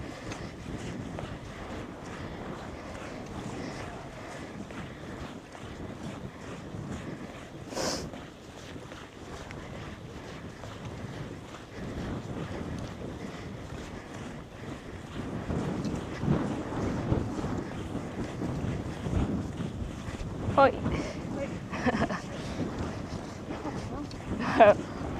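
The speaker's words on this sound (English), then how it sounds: "Pretty windy, hey?" Strong wind buffets an outdoor microphone during a bicycle ride, a continuous low rumble that swells louder toward the end.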